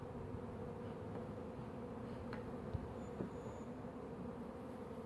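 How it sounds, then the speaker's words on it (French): A steady, low drone of many bees buzzing around a hive, continuous and fairly soft, with no voices present. "Il y a quand même des abeilles qui sont déjà sorties."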